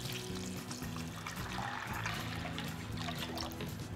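Water pours and trickles steadily over a batch of dirty acorns being rinsed, a continuous wet splashing stream lasting throughout, close and moderately loud.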